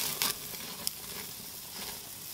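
A bison ribeye steak sizzling on a grill as whiskey butter sauce is added, a steady soft crackling hiss with a couple of brief sharper pops, fairly quiet and close.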